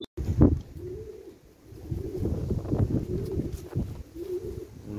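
A racing pigeon coos in low, rolling repeated phrases close by, with soft wind noise around it and no talking.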